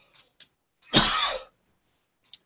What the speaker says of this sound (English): Again, excuse me for my coughing.